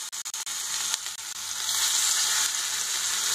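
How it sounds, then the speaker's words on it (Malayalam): Pieces of fish frying in a well-heated pan of oil, Kerala country style, with a few sharp clicks and drops as pieces go in, then a steady, close, continuous sizzle. "അപ്പോൾ നമ്മുടെ പാൻ നന്നായി ചൂടായിട്ടുണ്ട്. അതിലേക്ക് നമുക്ക് ഓരോ ഫിഷ് പീസസ് ഇട്ടുതരാം."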